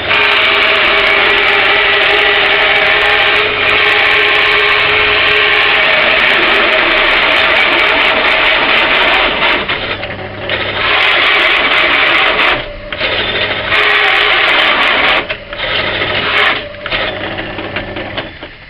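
A hole saw with a pilot drill cuts through a piece of wood on a powered machine, a loud, steady whining drone up close that briefly dips and falters several times toward the end.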